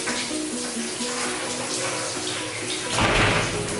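A faucet runs steadily into a container during a morning routine at home while the water supply is running low. The pour is close and continuous and swells louder near the end.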